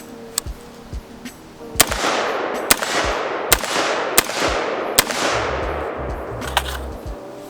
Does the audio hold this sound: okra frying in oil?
no